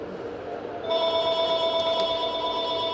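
A telephone starts ringing partway through in a nail salon, a steady electronic bell tone sounding over low room noise and continuing to the end.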